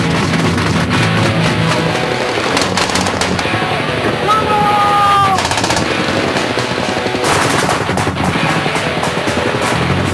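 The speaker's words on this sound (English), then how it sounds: "This is only a simulated land attack, but it's still very, very noisy." Loud, dense gunfire from a simulated military land attack staged from a landing ship near shore, with bursts of machine-gun fire and booming shots rolling almost continuously, cut by a brief whistling tone.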